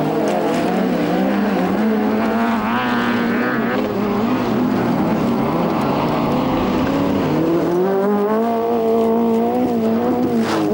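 Rally car engines roar continuously and close at a 2002 rally, revving and shifting pitch as the cars race past, loud and unbroken with no talk over them.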